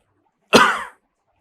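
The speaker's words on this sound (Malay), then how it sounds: "Batuk banyak hari ini." One short, sharp cough from a person, close and loud, fading within half a second into silence.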